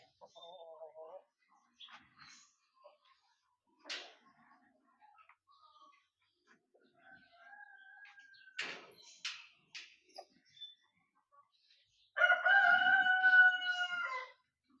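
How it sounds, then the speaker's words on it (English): Native chickens on a homestead: scattered clucks and short calls with a loud crowing burst near the end, mixed with people talking. "They're supposed to be native chickens."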